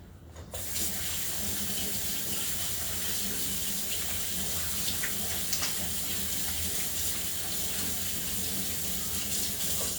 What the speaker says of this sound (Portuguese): Vou limpar agora aqui a mão, porque vocês sabem que isso é massa. Tem que se tirar. Eu agora vou passar as mãos à água